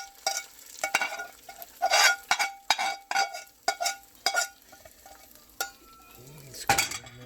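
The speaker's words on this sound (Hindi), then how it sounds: "इसको हम हलीम में बघार डाल दिया" Hot tempering (baghar) is poured into homemade Pakistani haleem and stirred, giving bursts of sizzling and scraping with clinks of a spoon against the pot, uneven and close, ending in a louder sizzle.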